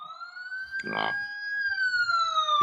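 A police-style siren sound effect wails on a podcast in a long, slowly sliding electronic tone, loud and close, with a brief voice cutting in over it.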